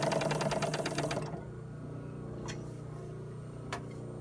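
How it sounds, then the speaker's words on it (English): A blind stitch sewing machine sews a seam with a rapid, rhythmic mechanical chatter for just over a second, then stops, leaving a low motor hum and a couple of faint clicks. "and then you're sewing."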